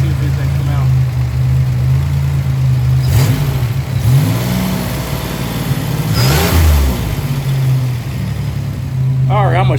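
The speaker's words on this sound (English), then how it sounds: "Let me rev the engine a little bit and see if anything come out" Buick Grand National engine idling steadily and revved twice, each rev rising and falling, loud and close, with someone talking over it.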